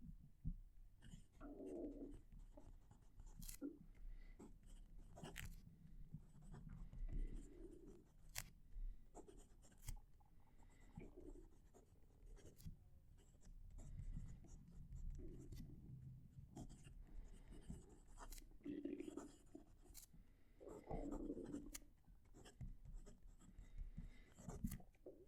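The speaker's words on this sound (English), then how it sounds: "I'm going to reposition the mic so that you can hear the pen writing." A Leonardo Furore fountain pen scratching across paper close to the mic, giving soft, uneven strokes at low volume under faint background noise.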